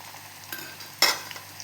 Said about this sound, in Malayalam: ഇനി ഇത് വെല്ലം ഉരുക്കിയതിൻ്റെ അകത്തേക്ക് ഇട്ട് കൊടുക്കാം